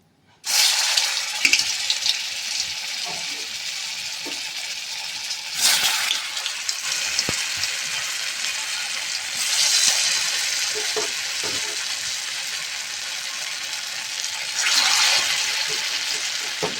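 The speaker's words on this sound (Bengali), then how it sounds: "আমাদের মাখানো হয়ে গেছে, এবার তেলে ছাড়বো। আমাদের তেল গরম হয়ে গেছে।" Sago pakoras deep-frying in hot oil give a steady, loud sizzle with several louder bubbling surges as batches go in, with no talking.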